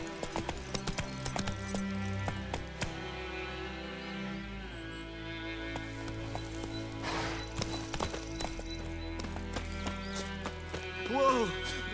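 In The Witcher 3, the horse Roach gallops with steady rhythmic hoof clip-clops over a road, close by, with game music and voices around it.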